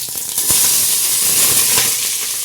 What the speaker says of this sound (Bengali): ধোয়া ওঠা তেলে পেঁয়াজ এবং মরিচগুলো ছেড়ে দিচ্ছি।